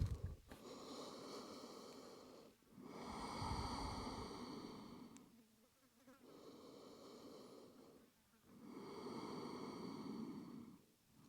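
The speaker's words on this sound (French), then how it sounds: "Viens respirer lentement par le nez" Slow breathing through the nose during a yoga flow in the Sahara: four long, steady breaths close to the listener, each lasting a couple of seconds with quiet gaps between, and no talking.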